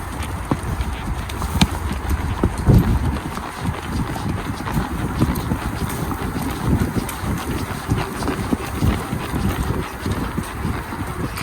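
Horse hooves beat out a rapid, rhythmic trot on an outdoor trail ride, close and fairly loud, mixed with heavy wind buffeting the microphone and no clear talk.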